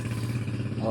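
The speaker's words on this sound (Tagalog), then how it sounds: "May dumaan pang motor." A motorcycle passes close by outdoors in the afternoon, its engine a steady, loud, rumbling drone with a slight rise in pitch toward the end.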